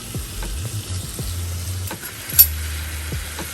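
Wing sauce for Asian-style and Buffalo wings sizzling in a very hot pan, a soft continuous frying hiss with a few light clicks and one sharp tap near the end.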